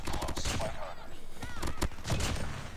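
Rapid bursts of hip-fire gunshots in a first-person shooter video game, with an MX9 weapon in use without attachments, crack steadily and loudly across the whole moment among dense game effects.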